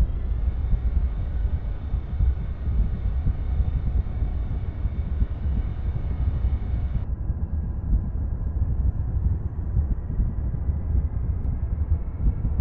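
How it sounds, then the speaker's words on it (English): A Boeing 737 taking off in the Eurofly flight simulator game, with a steady, loud jet engine roar throughout that shifts to a lower, slightly rising tone halfway through. "SK 737, you are clear to take off from the runway A2."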